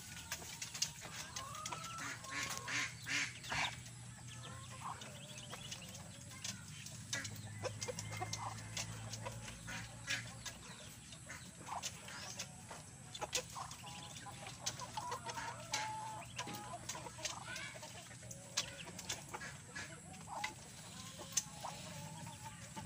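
Newly hatched ducklings peep and chirp continuously, with many high, thin calls overlapping close by throughout.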